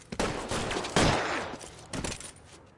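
Gunfire rings out during a shootout in L.A. Noire, a few loud, sharp volleys of shots spaced across the moment, each trailing off into echoing noise.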